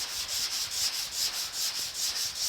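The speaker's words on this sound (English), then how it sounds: "And then we're just going to sand it again and see if the spot prime took" Steady rhythmic rasp of sanding over primer on the door of a 1950 Chevy truck, strokes repeating about every half second, close and even, with no voices.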